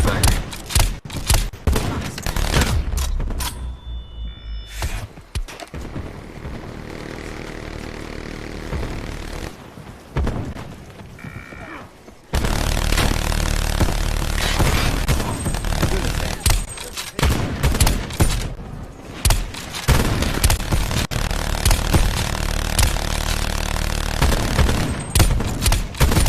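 Sniper and automatic gunfire in a shooting video game: dense bursts of loud, sharp shots in rapid fire, with a few brief quieter gaps between volleys and music or game audio running underneath.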